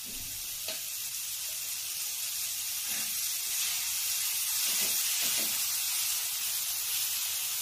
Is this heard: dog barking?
no